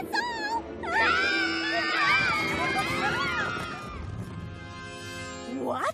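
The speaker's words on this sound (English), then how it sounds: "Screams of delight is what your princess desires, not screams of terror." Cartoon ponies scream in terror together, a loud chorus of wavering high-pitched shrieks and wails that swell and overlap for several seconds, then fade before a fresh scream rises at the end.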